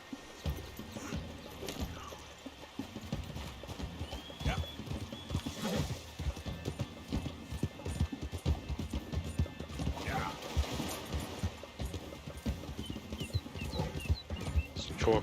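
Steady clip-clop of horse hooves runs throughout in the video game Red Dead Redemption 2, with an occasional whinny and game-like background noise.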